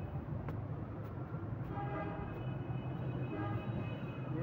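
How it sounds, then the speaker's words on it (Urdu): A metro train passes close by near an elevated metro station, a steady loud rumble of rail noise with faint high squealing tones running through the whole stretch. "یہ دیکھیں میرے پیچھے میٹرو اسٹیشن ہے اشرا والا"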